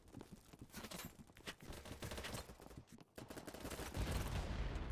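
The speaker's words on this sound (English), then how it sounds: "Oh, somebody's shooting at me." Rapid bursts of video-game gunfire crackle in dense, continuous volleys like a firefight, with a louder swell near the end.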